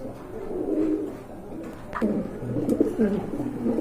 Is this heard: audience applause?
no